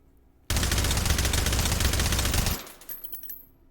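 A suppressed QBZ95 bullpup rifle in H3VR fires a long rapid burst of muffled, evenly spaced shots. The burst stops abruptly after about two seconds, followed by faint clinks and mechanical rattles.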